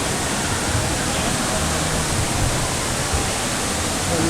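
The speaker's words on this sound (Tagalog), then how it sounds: "Ito pala talagang totoong Twin Falls oh." Twin Falls in Kalayaan, Laguna pours down in a loud, close, unbroken roar of falling water that fills the whole scene without letting up.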